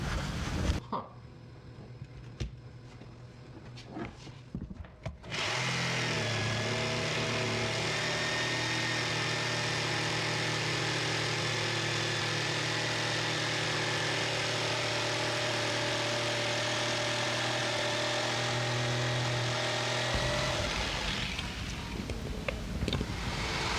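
A jigsaw cuts through wood to shape a body blank for a carved-top guitar. After a few quiet seconds with faint knocks, a close, steady motor buzz runs continuously for about fifteen seconds, then cuts off.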